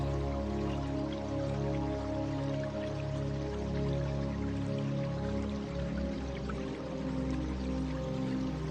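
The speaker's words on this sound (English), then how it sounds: "the sound of the flowing water" Continuous flowing water with a steady, full rush and some low gurgling, close and fairly loud, with no voices.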